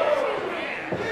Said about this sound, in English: crowd letting him know how they feel about him.